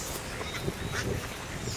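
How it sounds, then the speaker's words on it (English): Ducks at a drought-stricken pond tank in Elgin, Texas, quacking softly and in scattered bursts amid steady outdoor background noise, moderately distant. "Happy ducks."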